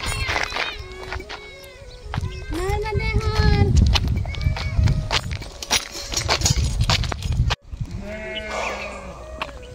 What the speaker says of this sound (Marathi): इथे मेंढ्या आहेत. बऱ्याच दिवसांनी मेंढ्या दिसतात.